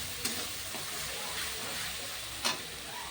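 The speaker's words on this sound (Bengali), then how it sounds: "এরপর নুন আর জিরের গুঁড়ো দিয়ে ভালো করে মশলাটা কষিয়ে নেবো।" A spiced paste with salt and cumin powder frying in a pan, giving a steady close sizzle, with a couple of brief clinks from a stirring spoon.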